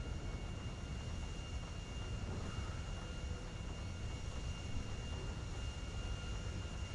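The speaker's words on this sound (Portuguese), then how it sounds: "eu preciso pousar esse avião, mano" An airplane flies in the video game GTA 5, giving a steady, dense roar of engine and wind noise that holds constant throughout without breaks.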